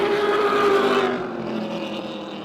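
Chevrolet and Ford stock race cars roar around a speedway, a loud sustained engine drone with a passing sweep that fades slightly toward the end.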